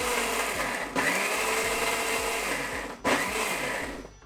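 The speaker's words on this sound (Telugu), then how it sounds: "బీరకాయ ముక్కలు, టమాటా ముక్కలు వేసుకుని పల్స్ ఇచ్చుకోవటమే, లేదంటే మెత్తగా అయిపోతుంది." A kitchen mixer grinder pulses ridge gourd and tomato pieces for a coarse chutney, its loud whirring motor running in short bursts with two brief stops and restarts.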